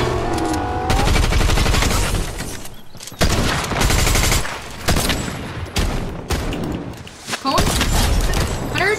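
Rapid gunfire in a ranked multiplayer shooter, bursts of shots crackling loudly and nearly continuously with brief pauses, mixed with in-game effects.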